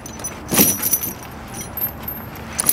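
A brand new set of semi truck tire chains clinks and rattles as they are handled, a few sharp metallic jangles up close, with a faint vehicle hum behind.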